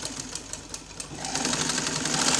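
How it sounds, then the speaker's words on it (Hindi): A sewing machine stitches a neck design on a garment, its rapid mechanical whir starting slower and building into a steady, faster hum that grows louder toward the end. "राइट साइड से यहाँ से स्टिच लगानी स्टार्ट करेंगे।"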